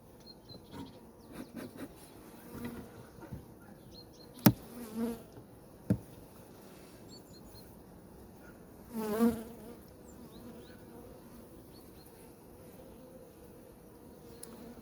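Soft, steady buzzing of many honeybees close by at an open hive, with a few sharp knocks and a louder swell of buzzing midway.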